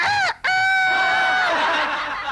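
A rooster crows loudly and close by in a single long cock-a-doodle-doo, with a brief break near the start and a drawn-out, fading final note, set in a comic television scene.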